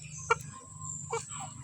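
A chicken on a farm gives two short clucks, the first sharp and close, the second a little softer, over a low steady hum with the surroundings otherwise quiet.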